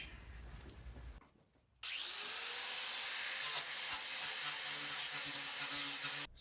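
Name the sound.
wire brush scrubbing Bondo off a Datsun 240z body panel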